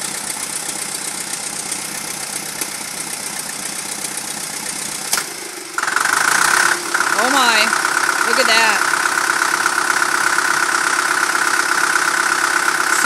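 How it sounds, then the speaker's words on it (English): An International TD-6 diesel tractor engine, just switched over from its gas start engine, runs steadily with a loud, rough drone that shifts pitch partway through, while a person speaks briefly over it. "we're getting ready to switch it over to diesel."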